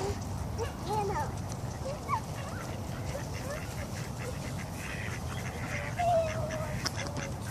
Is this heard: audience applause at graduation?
no